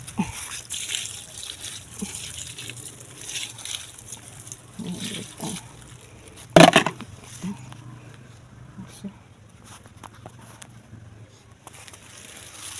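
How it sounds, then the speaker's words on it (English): Water poured over farm waste being made into organic fertilizer, a soft outdoor trickle and splash with one brief louder gush, while a person talks nearby. "And water."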